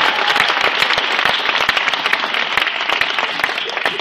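Dense, steady applause from an after-prom hypnosis show audience, many hands clapping loudly and continuously with a few sharper pops scattered through it.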